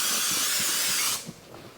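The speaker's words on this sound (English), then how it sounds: "And now the spray oil." Cooking spray oil hisses in one steady burst onto a heavy-gauge 16-mesh grill for about a second, then stops, followed by faint clinks.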